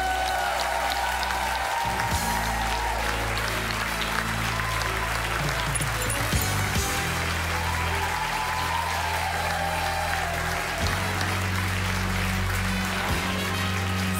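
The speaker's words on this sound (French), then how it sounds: "faites un tonnerre d'applaudissements" Thunderous applause from a live television audience fills the whole stretch, loud and continuous, with music and a sustained low tone running underneath.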